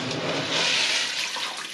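Water gushes over tiger nuts being soaked as carp bait, a full rushing pour heard up close that swells in the middle and then eases slightly, with no talking.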